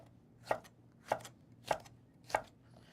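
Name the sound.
slicing fennel thinly with a peeler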